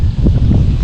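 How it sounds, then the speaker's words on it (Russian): Strong wind buffets the microphone over a river during a rainy fishing trip, a steady loud low rumble of gusts with no voices. "Поднялся сильный ветер, дождь по-прежнему идет"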